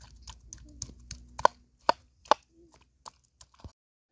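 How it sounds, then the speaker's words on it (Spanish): Serrano chiles and skinned hot tomato being crushed in a stone molcajete, a series of sharp, close knocks and gritty grinding strokes at an uneven pace with brief pauses. "Aquí voy a empezar a moler. Tiene molcajete, piezas de chile serrano."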